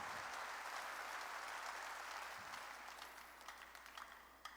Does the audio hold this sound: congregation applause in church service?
yes